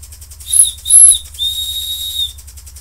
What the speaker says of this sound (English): You can see the whistle really works well.